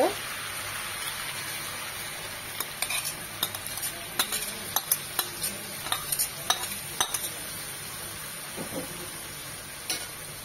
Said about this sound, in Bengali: মাথাটার সাথে মুগ ডালটার সাথে কষবে মিনিমাম আরো 3-4 মিনিট